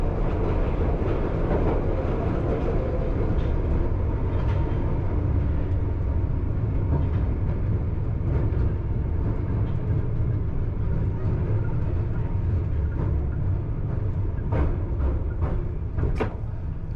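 A Piccadilly Line Underground train braking as it runs into Kings Cross, heard as a steady loud rumble and roar with occasional clicks and squeals near the end, no speech over it.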